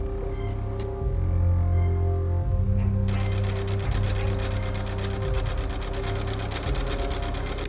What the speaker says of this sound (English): you can now sew all the way around your hem to finish it off